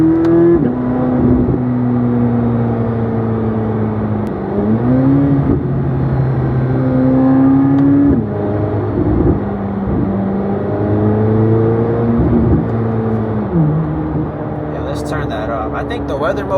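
A Chevrolet Corvette Z06 in Z mode accelerating: a steady, loud engine drone heard from inside the cabin, its pitch rising and falling through gear changes, with a voice talking over it.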